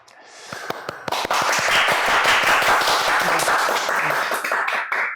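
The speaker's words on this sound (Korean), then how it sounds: "박수가 터져 나오네요" Audience applause breaks out at the close of a panel discussion on the Korean War's aftermath. A few scattered claps lead into dense, sustained clapping that swells quickly and holds steady and loud to the end.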